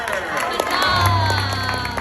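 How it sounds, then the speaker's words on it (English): An audience at a Disneyland Tangled stage show cheers and claps in a short, busy burst, with a voice and music carrying over the crowd. "How about a royal round of applause for Princess Rapunzel?"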